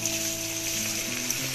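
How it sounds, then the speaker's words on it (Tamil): Snacks frying in hot oil give a steady, even sizzle, close up and continuous at moderate volume, with a faint background hum and no voices. "நான் அடுத்த பேட்ச் ரேஷ்மாக்கு பொரிக்க போறேன்."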